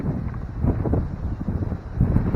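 Gusty wind buffets a camera microphone outdoors in a garden, a low rumbling roar that swells and dips in waves throughout, loud and close with no other clear sounds.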